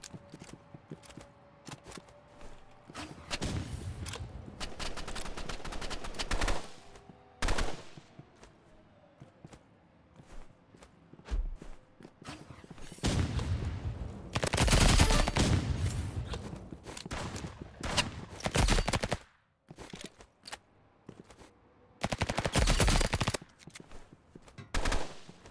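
A minigun in the video game Rivals fires in long, dense roaring bursts, with scattered single shots and quiet gaps between the heavy sustained volleys.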